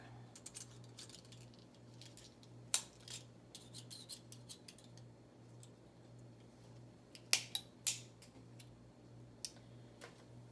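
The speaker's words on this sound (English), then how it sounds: "We are going to snip this off real quick." Small cutting tool snipping something off, a few sharp close clicks and snaps scattered over a faint steady hum, with two louder snips standing out, no talk.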